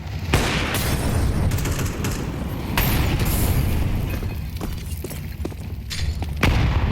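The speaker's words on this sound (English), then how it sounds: "Well-placed nade." Counter-Strike 2 match on Dust2 at a PGL Cluj-Napoca esports tournament, with a continuous roar of in-game gunfire, booms and thuds dense and loud throughout, including a grenade blast among the clutter.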